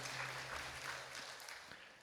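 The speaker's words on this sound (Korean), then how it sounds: "하나님 앞에 영광의 박수 올려드립니다." A church congregation applauding during a Sunday worship service, a steady wash of many hands clapping together at moderate distance, continuous throughout with no speech over it.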